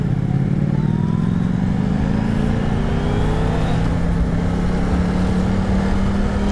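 A Yamaha XSR900 motorcycle accelerates steadily on a test ride, its engine note rising continuously and loud and close throughout with no speech.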